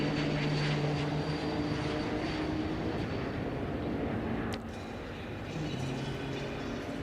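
An airplane takes off from a nearby airport, a broad steady engine roar that fades slightly midway, heard faintly behind a quiet indoor background.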